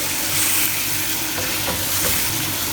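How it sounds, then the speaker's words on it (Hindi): One kilogram of chicken frying on a medium-high flame for a dhaba-style mash dal, a steady loud sizzle with occasional stirring scrapes in the pan and no talk. "इसके अंदर हम चिकन ऐड करेंगे। यहाँ मैंने 1 kg चिकन लिया है और इसकी भी हमने अब इसके अंदर भुनाई करनी है।"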